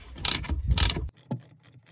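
A socket ratchet clicks in two quick bursts, tightening the fuel injector bolts on a 951DI direct-injection jet ski engine, close and loud in a quiet room, followed by faint light taps.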